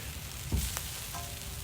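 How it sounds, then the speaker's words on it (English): A faint, steady sizzle of arrabbiata sauce flavor bombs cooking on a hot grill, with a couple of soft clicks and scrapes. "See, they're sizzling a little bit more over here."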